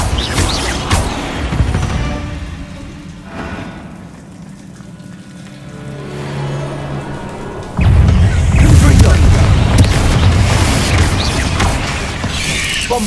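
Bombarda spell blasts from the game Hogwarts Legacy boom and crash loudly with crackling debris over spoken lines, a big surge hitting partway through.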